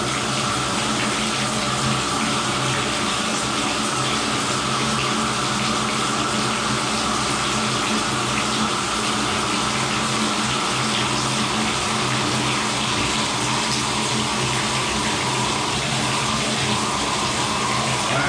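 Steady, broadband rush of running water from a shower after a Moen Posi-Temp cartridge replacement, continuous and fairly close, with no talking over it.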